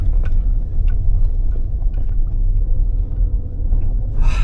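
Steady low engine rumble from a car being driven slowly, a continuous close drone with road noise and a brief brighter hiss near the end, no talking.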